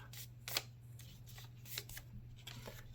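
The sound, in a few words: paper airplane being flipped and folded in half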